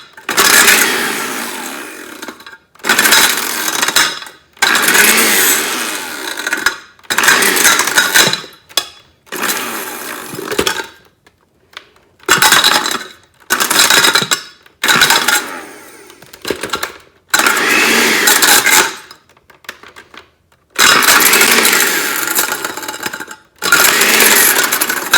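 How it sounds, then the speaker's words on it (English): An iPhone 5s being ground in a blender: loud, rough motor whine with clattering fragments, pulsed in many short bursts of one to three seconds with brief silent gaps between them, no voices. "Now let's blend the hell out of it."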